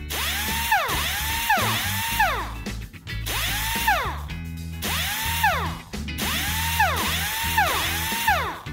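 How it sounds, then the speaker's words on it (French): A toy power drill whirs in repeated loud cycles, each buzz rising and falling in pitch, with brief pauses between bursts and no talking. "Une perceuse. Juste ce qu'il me faut."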